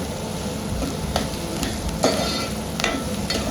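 Onion and chili sautéing in a pan for a Koli-style crab curry, a steady low sizzle with occasional stirring scrapes and clinks, close and moderately loud, with no talking.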